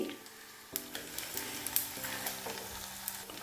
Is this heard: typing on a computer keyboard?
no